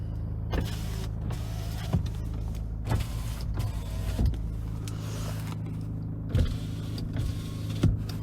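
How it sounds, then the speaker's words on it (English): Electric windows on a 2016 Nissan Navara 2.3 dCi Tekna auto hum steadily as they move, with several distinct clunks as each window stops or changes direction, heard close inside the cab with no talking. "All the windows work normally."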